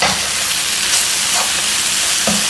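Food for a kidney-friendly meal roasts in a pan with a loud, continuous sizzle, broken by a few soft stirring knocks, close up and without talk.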